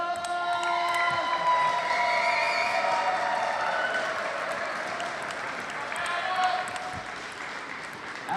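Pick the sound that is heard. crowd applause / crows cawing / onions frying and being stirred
crowd applause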